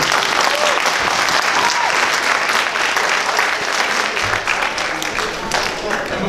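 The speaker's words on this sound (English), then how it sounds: "One more quick round of applause for Dr. Archie." An audience at a Black History Month essay contest gives a loud, dense round of applause, many hands clapping continuously and close by for the full stretch, with no talking over it.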